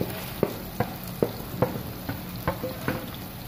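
Steady sizzling of spinach paste cooking in hot oil for palak paneer, with a series of sharp stirring knocks about every half second.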